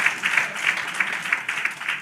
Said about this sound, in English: Y'all ought to be clapping for this kind of information.